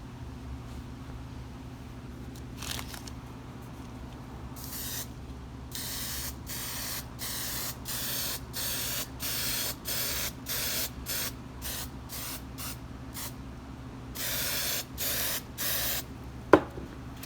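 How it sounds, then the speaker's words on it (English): Satin spar urethane clear coat sprayed from an aerosol can in light coats, a series of short hissing bursts of varying length, close and fairly loud, separated by brief pauses over a steady low background hum. "I'm just going to spray a couple of light coats on here"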